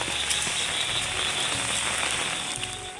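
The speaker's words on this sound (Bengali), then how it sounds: "আবারও ভারী বৃষ্টি শুরু হয়ে গেছে" Heavy rain pours down in a downpour with runoff water, a dense steady hiss that stays constant throughout and has no talking.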